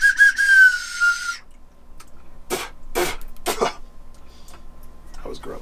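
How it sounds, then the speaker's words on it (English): A handmade ceramic clay whistle gives a shrill, high tone, blown in a single steady burst at the start, followed by a few rough coughs or throat-clearing sounds nearby. "This is a clay whistle."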